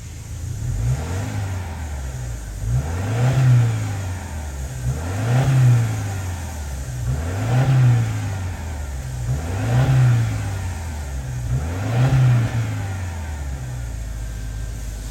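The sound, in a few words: turbocharged boxer engine car revving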